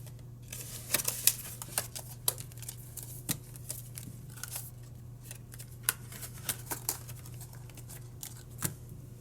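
Paper cash bills are shuffled and sorted into envelopes, giving soft rustles with frequent sharp crisp flicks and snaps up close in a quiet room.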